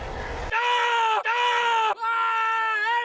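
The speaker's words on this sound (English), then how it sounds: "Like when the Hulk would like roar or scream," The Hulk in the 2008 film lets out a loud, anguished roaring scream in three long sustained bursts, each breaking off briefly before the next, strained and tonal with no other sound beneath.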